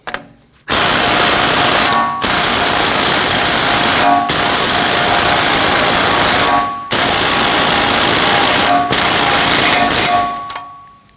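A power tool runs close up, tightening the front axle nut on a Honda Pilot during steering knuckle replacement, in four loud sustained bursts separated by short pauses.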